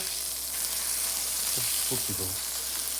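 Burgers sizzle on a Greecho smokeless indoor grill after flipping, a steady faint hiss with a few short low bumps.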